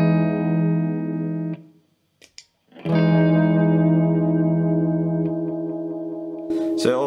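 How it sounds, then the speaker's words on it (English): Clean electric guitar through a tape delay pedal set for many quick, fairly quiet repeats, sustained chords ringing out with a smeared echo tail, a brief gap, then another long ringing chord alone. "So I've got this set as a tape delay, quite a lot of repeats, but not too loud and quite quick."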